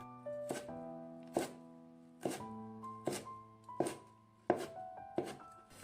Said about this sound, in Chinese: 给它放在案板上，用刀切成小段。